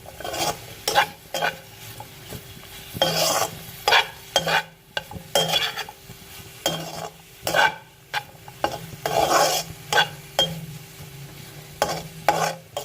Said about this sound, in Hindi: अब हम ये इसमें प्याज शामिल कर देंगे। इसको थोड़ा सा मिक्स करेंगे।